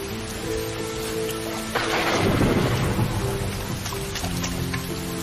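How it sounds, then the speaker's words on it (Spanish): Heavy jungle downpour with thunder, a dense hiss of rain joined by a loud crack and rolling rumble partway through, steady and close throughout. "Con un potente relámpago se abrieron las puertas del cielo. Yo había visto llover, pero aquello era otra cosa."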